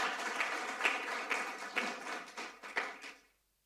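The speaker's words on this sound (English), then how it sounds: "So I think they deserve another applause." Audience applause at a European cybersecurity certification conference, a steady wash of clapping with a few sharper claps standing out, lasting about three seconds before fading quickly to silence.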